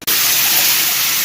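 Shower water gushing in a steady, loud, close rush as a dog is bathed with Mane 'n Tail shampoo, starting abruptly and running without a break, with no talk.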